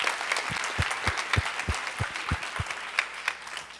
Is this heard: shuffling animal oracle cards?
no